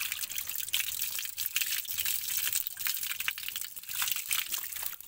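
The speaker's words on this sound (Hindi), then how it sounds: "ये है प्योर मिनरल वाटर," Pure mineral water pours and drips in a steady, fairly quiet hiss of trickling liquid, with small splashes and crinkles running throughout and no talking.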